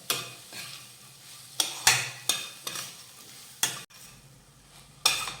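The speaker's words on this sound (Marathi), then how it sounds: "मिक्स करून घेऊयात आणि आता साधारण दोन मिनटं मंद आचेवर ही मटकी व्यवस्थित परतून घेऊयात" Moth beans (matki) sautéing with salt on a low flame make a soft background sizzle broken by repeated short scrapes and clinks of a spoon stirring the pan, close and alone.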